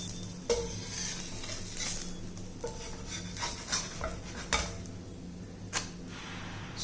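Oats dosa cooking on a hot pan, a faint steady sizzle with a few sharp scraping or tapping clicks from a spatula, no talking.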